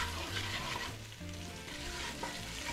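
Curry powder and turmeric sizzle steadily in a hot pan while being stirred, a continuous crackling hiss with scraping, close and alone, with faint tonal background sound underneath.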